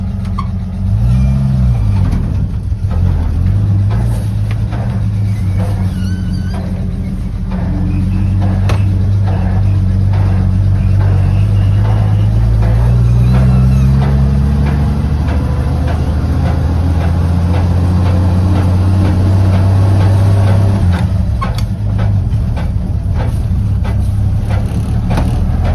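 Old vehicle engine running steadily as it is driven a short distance to be put away, a loud continuous low rumble with shifting pitch throughout, no talking.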